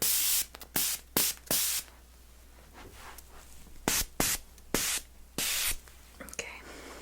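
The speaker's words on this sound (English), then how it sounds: "I'm going to give a little tiny bit more hairspray." Hairspray hisses from an aerosol can onto hair in a salon styling session, several short close bursts of about half a second each in two groups, with quiet pauses between them.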